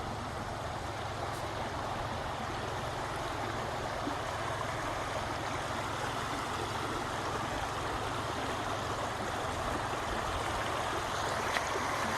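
A creek at Standing Indian Campground near Franklin, North Carolina, flows over rocks in a steady, broad rushing wash, constant and fairly close with no voices.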